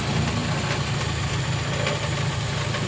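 A Nissan engine with a small carburetor runs at a steady idle after a fuel system repair, its low, even rumble continuous and close with no break.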